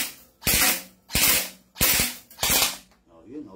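A toy gun fires four loud, sharp shots in an even rhythm, each with a short rattling tail, close to the listener and without talk.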